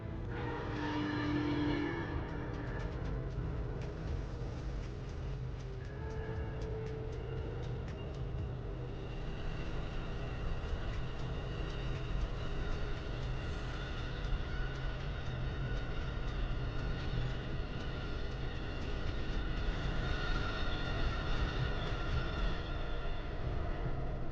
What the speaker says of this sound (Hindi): फोकसटोन वर्चुअल रेल फैन कैमरे पर हमारी ट्रेन तेजी से गुजरती दिखती है।